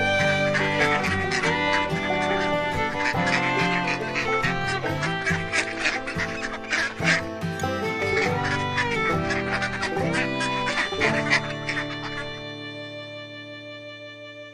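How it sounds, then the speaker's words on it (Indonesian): A duck quacks repeatedly over a busy musical backing that carries on throughout, with the calls bright and prominent before the music fades near the end. "duck."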